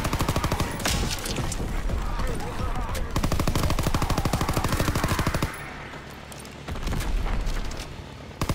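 Rapid machine-gun fire in Call of Duty WWII zombies aims at a Zeppelin, with loud, close bursts of fast repeated shots separated by brief pauses and a rumbling boom.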